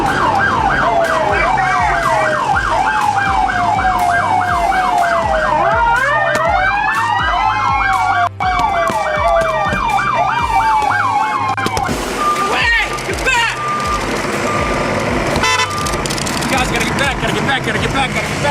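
A loud ambulance siren, first yelping rapidly and then wailing, with traffic noise and voices talking over it.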